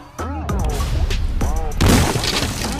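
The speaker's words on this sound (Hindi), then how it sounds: "बाबा कहते हैं शॉन अब तुम ऊपर ही रहो, हम लोग जाते हैं पटाखे जलाने" Firecrackers go off in an animated Diwali cartoon, a burst of crackling noise near the end that follows cartoon voices and whoops.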